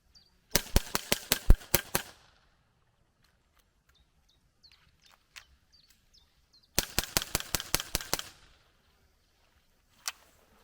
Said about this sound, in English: So how fast can you shoot all 16 rounds out of this pistol, including changing the magazine around?